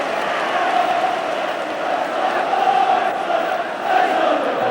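Football stadium crowd at a 1993/94 Manchester United v Everton match, giving rich applause for a goalkeeper: a steady, dense wash of clapping and crowd roar that swells slightly and holds at a fairly loud level throughout.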